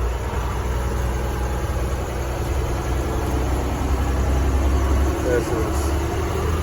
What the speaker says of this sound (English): Oh, I hear the turbo.